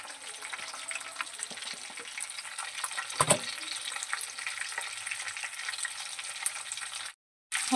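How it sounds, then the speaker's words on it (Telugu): Fish roe frying in hot oil in a pan, a steady close sizzle and crackle with a brief louder pop partway through, running alone without voices before cutting out at the end. "ఈరోజు చేప గుడ్డుతో ఫ్రై అయితే చేస్తున్నాను"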